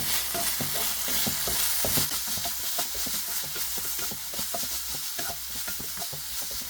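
Paneer filling in chilli garlic sauce is stirred around a hot pan, with a steady sizzle and a rapid run of spatula scrapes and taps close by, no voices.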